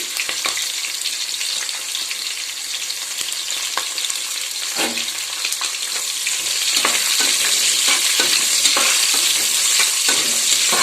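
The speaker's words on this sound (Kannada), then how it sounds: "ಈರುಳ್ಳಿ ಸೇರಿಸ್ತಾ ಇದ್ದೀನಿ" Onions sizzle steadily in hot oil with scattered clicks of a spoon stirring, the frying growing a little louder in the second half.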